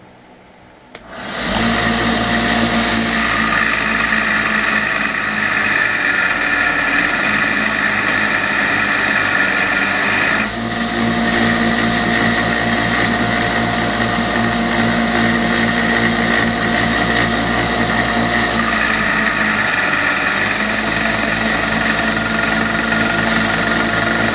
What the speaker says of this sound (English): But I got my little grinder here, so I'm going to use it.